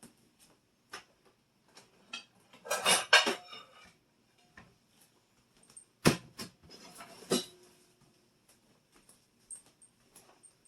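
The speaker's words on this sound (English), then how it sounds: "Now we should go into the kitchen and put away the dishes." Dishes being put away in a home kitchen during a weekend clean-up: scattered clinks and clatters of plates and cutlery, with two louder rattling bursts among sparse single taps, close by with no talk.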